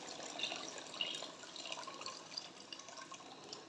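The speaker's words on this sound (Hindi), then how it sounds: "अब हम इसमें पानी डालेंगे।" Water pours from a glass into a cooking pot in a steady, bubbling stream with a few bright drips and splashes, fairly quiet and close.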